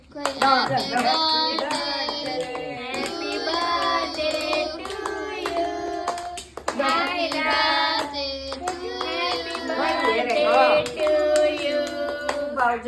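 A small group claps along at a second birthday cake cutting, rhythmic hand claps mixed with lively tonal voices, likely singing, that swell, pause briefly midway and return.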